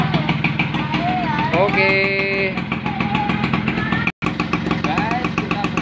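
An old Vespa PTS scooter engine runs with a steady close putter while a voice talks over it, and the sound breaks off for a moment near the end.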